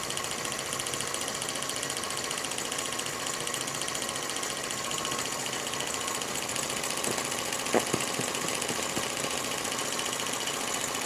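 A small Stirling engine, an aluminum model helicopter-style build, runs with a steady fine mechanical whir and faint rattle throughout, with a couple of brief knocks near the end.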